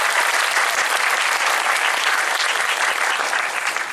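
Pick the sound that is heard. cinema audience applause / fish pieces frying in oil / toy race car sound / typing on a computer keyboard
cinema audience applause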